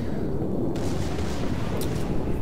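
Heavy naval gunfire from a Yamato battleship in World of Warships, a dense, rumbling barrage of booming shots over steady low engine and sea roar, with a brief sharp crack near the end.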